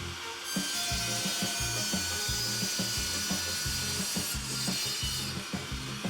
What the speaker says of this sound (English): I found these individual pieces of flooring that you could get, so I cut one down to size for the gallery